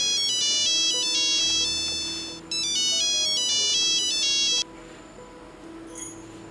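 Mobile phone ringtone for an incoming call, a loud electronic melody repeating in two bursts, then cutting off to quiet room noise.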